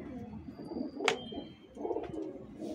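A pigeon cooing close by, two soft low throaty coos with a brief sharp rustle between them, no talking.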